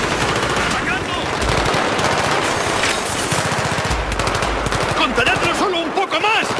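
Rapid automatic gunfire in Battlefield 3 rattles loud and close in long continuous bursts, dense battle noise that runs the whole time, with shouting voices over it.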